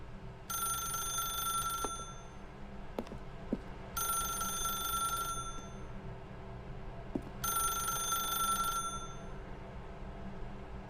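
Telephone ringing in The Stanley Parable: Ultra Deluxe video game, three evenly spaced bursts of a bright electronic bell ring over a steady low ambient hum, with no talking.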